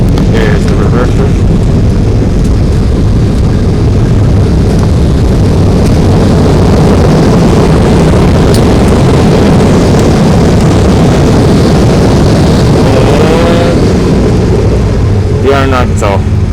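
Airliner thrust reversers roar on an American Airlines landing at XNA in Arkansas, heard from inside the cabin as a loud, steady, broadband rush that fills the whole stretch and overwhelms everything else.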